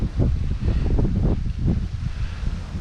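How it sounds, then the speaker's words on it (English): Strong outdoor wind buffets the microphone in loud, low rumbling gusts that swell and fade over a few seconds, at a waterside spot where carp and catfish are caught and cleaned. "Oh, it's windy. Super windy today."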